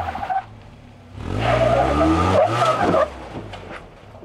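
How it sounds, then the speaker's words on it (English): An off-road vehicle spins all four tires on a wet rock slab on the Rubicon trail, a loud rising squeal and roar of rubber and engine that swells for a couple of seconds, then drops back to a lower rumble. "It's a good opportunity to do a 4-wheel burnout as you dry off your tires and get enough traction to just bump up over the top"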